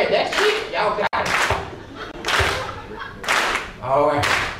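A comedy show crowd claps their hands together in time, sharp collective claps repeating at a steady pace, close and strong, while someone talks over the beat.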